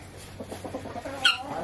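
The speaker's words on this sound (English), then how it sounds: "Look at this beauty mama chicken." A mother hen clucks softly in a garden coop, a few low, short clucks in a loose rhythm followed by one brief, sharper squawk, close but fairly quiet.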